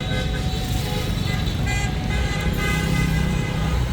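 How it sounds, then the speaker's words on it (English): Car horns honk repeatedly in the streets of Marrakech, Morocco, during celebrations after a football win, short toots overlapping above a dense, continuous traffic roar with a busy crowd murmur underneath. "the streets erupted with the cheering, waving flags, and non-stop honking"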